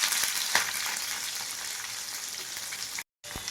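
Onions and curry leaves sauté in oil with mustard seeds in a pan, a continuous close hissing sizzle with occasional light stirring taps, cutting out briefly near the end before resuming.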